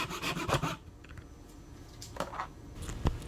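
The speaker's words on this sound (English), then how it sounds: "So I'm just sawing little pieces at a time" A handsaw rasps through wood in a quick burst of strokes, cutting small pieces for a wooden cross, then pauses before a few shorter, separate strokes, close and fairly quiet.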